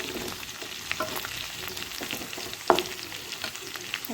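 Chicken kosha frying in a pan: a steady hiss and spatter under repeated spoon scrapes, with one sharp metallic clink partway through.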